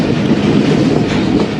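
Karachi Express rolling slowly along a railway track running beside floodwater, a loud, dense rumble and rattle of the carriages with wind buffeting the microphone, continuous and with no voices.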